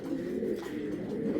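A pigeon with fiery red eyes gives a short, low, steady coo, close and fairly soft, with no talk over it.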